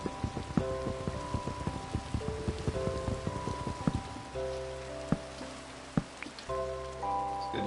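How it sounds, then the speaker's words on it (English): Rain patters steadily in the video game Minecraft, with scattered drops tapping over a soft hiss while tonal game music plays underneath, moderately loud and with no one talking. "It's a rainy day."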